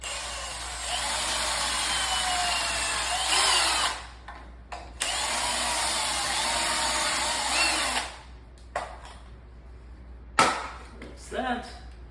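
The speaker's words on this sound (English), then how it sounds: "Drill all our holes first." A power drill bores holes in window trim casing in three long, loud bursts of whirring, with short pauses and a few light knocks and handling sounds between them.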